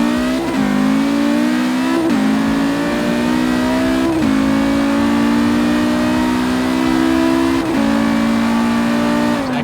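A '95 Audi RS2 Avant in Forza Horizon 3, running 24 PSI at full boost, holds a loud, steady high-rpm engine drone, with brief dips and pops where the revs bounce off the limiter every couple of seconds.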